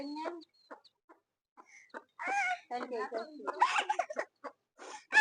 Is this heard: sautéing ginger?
no